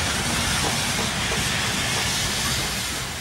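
A steam locomotive, just coaled and watered, lets off a loud, continuous hiss of steam that holds steady for several seconds and tapers only slightly at the end.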